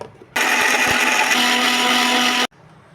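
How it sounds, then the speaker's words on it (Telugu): A mixer grinder whirs loudly and steadily for about two seconds while grinding a paste, then cuts off abruptly, with quiet room noise before and after. "ఇట్లా డైరెక్ట్గా మిక్సీలో వేసేసుకొని పేస్ట్ లాగా కూడా తయారు చేసుకోవచ్చు"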